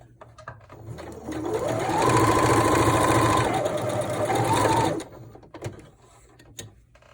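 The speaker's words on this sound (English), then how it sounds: "we're just going to sew a straight seam along the top" A sewing machine runs a straight seam along the top of a cloth face mask, whirring up to a steady hum for about three seconds before stopping, followed by a few faint clicks and handling sounds.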